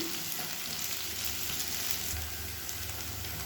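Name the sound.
potatoes roasting in oil on medium flame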